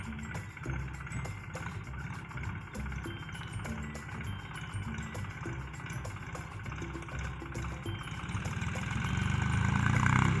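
A tractor runs steadily while pulling in a farm field. Its chugging mid-range engine drones close by and swells louder near the end as it works harder.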